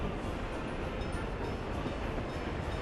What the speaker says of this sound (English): We should have another train coming in.